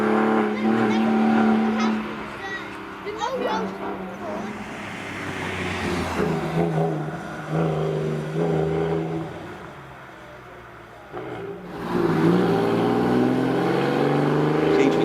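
Roger Taylor's Ford Escort rally car with a Vauxhall engine climbs a hillclimb at night, its engine revving and roaring loudly, rising and falling through gear changes, briefly fading before surging back close by.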